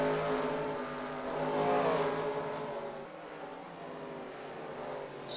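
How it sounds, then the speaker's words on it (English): NASCAR Sprint Cup race cars roar around the road course at the Toyota Save Mart 350, with engines droning loud and steady as cars speed past and fade. "1 lap to go for AJ Allmendinger."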